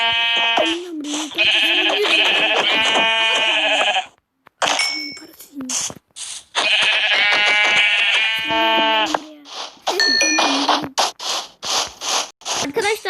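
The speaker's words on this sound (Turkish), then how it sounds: "Oy, şurada bir koyun gördüm." Minecraft sheep bleat loudly in repeated, wavering calls, several in a row with short gaps between them, and game clicks and dings come in between.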